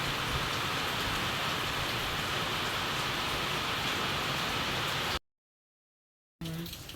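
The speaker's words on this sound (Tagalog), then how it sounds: "malakas ang ulan." Heavy rain pours down in a dense, constant roar, cutting to silence briefly before resuming.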